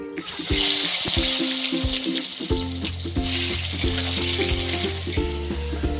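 Salt-and-turmeric-coated potatoes frying in hot mustard oil, a loud continuous sizzle close up, with music playing underneath.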